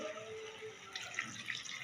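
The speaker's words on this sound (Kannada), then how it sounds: "ಇವಾಗ ಇದಕ್ಕೆ ದೊಡ್ಡ ಲೋಟದಲ್ಲಿ ಒಂದು ಲೋಟ ನೀರು ಸೇರಿಸ್ತಾ ಇದ್ದೀನಿ" A large glass of water is poured into a potato chicken curry, making a faint, brief trickle and splash close by, with no talk.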